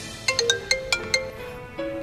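A phone ringtone on an outgoing call, a short run of bright electronic chime notes in quick rhythm followed by a brief sustained tone, faint and alone with no talk.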